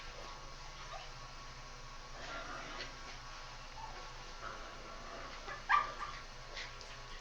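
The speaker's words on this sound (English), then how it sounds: "I don't know if you guys can hear these dogs right now." Dogs bark faintly and only now and then in the distance, nearly buried under a steady droning hum, with one slightly sharper bark standing out near the end.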